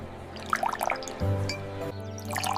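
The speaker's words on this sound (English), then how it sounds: "With one careful pour, the milk finally reaches the form most people recognize." Milk pours into a glass at a kitchen table, opening with light drips and splashes, then a steady rising fill tone that cuts off and is followed by a few quieter trickling drops.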